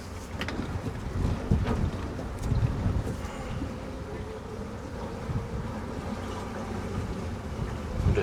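A bow thruster on a Wellcraft 28 T-Top boat runs while docking, heard as a steady low rumble mixed with wind buffeting the microphone, with a few heavier surges throughout.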